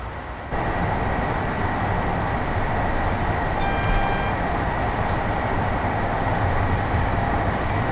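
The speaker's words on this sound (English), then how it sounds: "the amount of ScotRail liveried 385s that keep passing us" ScotRail-liveried Class 385 electric trains pass in a train simulator game, a steady loud rolling rumble with a sustained tonal whine and a brief high tone midway, continuous and without talk.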